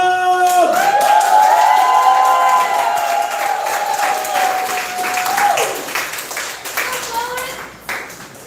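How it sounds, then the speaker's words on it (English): Loud, dense audience applause and cheering at a poetry slam as a poet is introduced, with a sustained voiced whoop or hollering over the clapping early on, tapering into scattered claps and crowd noise near the end. "Clap it up for"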